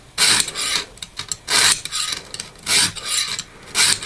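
Rhythmic rasping strokes of a 440C stainless steel knife blade drawn across a Lansky sharpening hone, about seven close, evenly spaced passes with short pauses between them.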